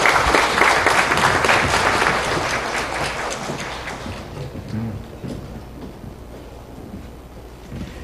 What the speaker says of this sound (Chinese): 我们用热烈的掌声来欢迎